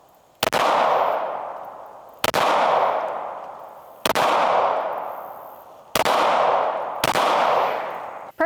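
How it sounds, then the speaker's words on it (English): Five loud pistol shots from a brand-new Springfield Echelon handgun fired at a target outdoors, spaced about one and a half to two seconds apart, each a sharp crack trailing into a long decaying echo. "we're going to be shooting this today with the Echelon, brand new"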